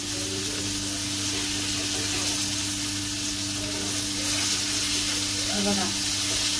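Bombay duck (bombil) fish sizzle and fry steadily in a pan at a farmhouse, a constant close hiss with occasional faint clinks.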